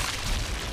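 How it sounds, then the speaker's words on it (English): A tank firing its cannon in the video game Sniper Elite V2: one brief, dense, booming blast of broadband noise, loud and close throughout. "It's a tank shooting at me."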